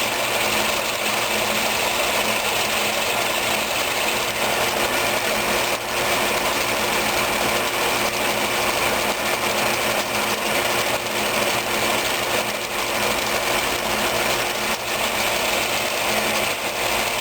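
A Forstner bit bores into walnut with a steady, loud whirring drone that holds almost unbroken throughout, with only a slight dip near the middle. No one speaks.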